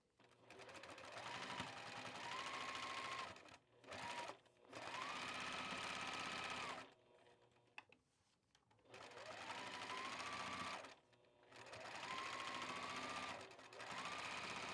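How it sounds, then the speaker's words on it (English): Sewing machine running a stay stitch around the edge of fabric, loud steady whirring bursts of a few seconds each, stopping and restarting several times with short pauses between runs. "I need to stitch around. I need to do a top stitch all the way around"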